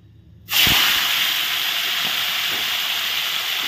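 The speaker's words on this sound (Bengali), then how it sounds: "মাছের ঝাল করার জন্য এখানে আমি এখন কড়াইতে তেল দিয়ে দিয়েছি। এখন মাছগুলো গোটা গোটা ভেজে নেব" Whole boroli river fish hit hot oil in a wok with a sudden loud burst of sizzling that settles into a strong, steady hissing fry, with a few soft knocks.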